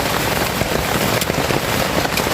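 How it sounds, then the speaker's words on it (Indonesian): Heavy rain pours down at a campsite at the foot of a mountain: a dense, loud, constant hiss with small drops pattering on a nearby surface throughout, and no voices. "Ah dengar suara hujan ini."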